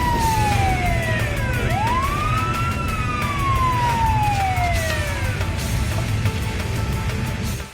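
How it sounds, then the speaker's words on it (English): A police car siren wails in a rising and falling sweep through traffic noise, moving close and loud across the whole stretch before fading at the end, with no talking. "Police car."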